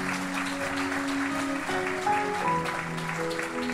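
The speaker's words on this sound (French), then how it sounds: "Est-ce qu'on applaudit le Seigneur?" A church congregation applauds during a French-language Pentecostal-style service, with steady broadband clapping mixed with sustained organ or keyboard chords throughout, the clapping moderately loud and continuous.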